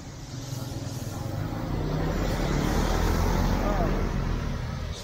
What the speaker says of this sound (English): Because of so many cars here.